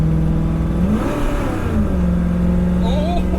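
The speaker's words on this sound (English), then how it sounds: "let's see if I just gun it real quick and then hit the brakes" A V8 car engine with EFI revs up hard, its pitch climbing and then settling, loud and close, with a faint voice partly audible underneath.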